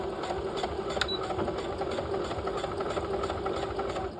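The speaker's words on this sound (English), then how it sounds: "I'm going to sew across the very end as close as I can get to the base of the triangle" Sewing machine stitching a half-scale jacket double welt pocket, a steady close mechanical whir with rapid needle chatter running continuously throughout.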